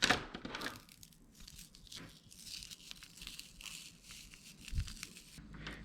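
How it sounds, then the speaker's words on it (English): Short piece of vinyl tubing filled with water and frozen solid, flexed by hand to give dry crackling, crinkling and crunching sounds in irregular bursts, close and fairly quiet, with no talking. "here's a little piece of vinyl tubing that I filled with water and froze"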